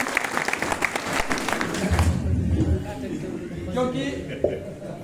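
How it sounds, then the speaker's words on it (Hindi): A room of students bursts into a short round of clapping for a teacher during a maths class, heard in the first two seconds, followed by someone speaking. "एक बार जोरदार ताली हो जाए"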